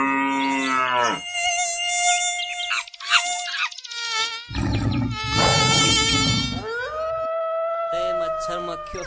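A cartoon mosquito buzzing around someone trying to sleep, heard as a loud, high-pitched whining drone that bends and wavers in pitch with brief pauses. A voice seems to imitate the buzz, and there are other cartoon sounds.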